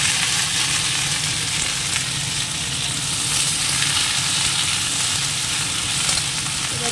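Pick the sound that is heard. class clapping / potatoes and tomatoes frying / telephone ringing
potatoes and tomatoes frying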